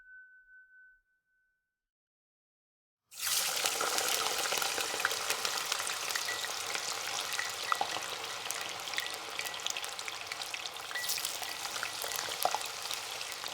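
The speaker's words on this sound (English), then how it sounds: "Frying bacon." Bacon frying in a pan gives a loud, steady sizzle with dense crackling pops that starts abruptly after a short silence and continues evenly to the end.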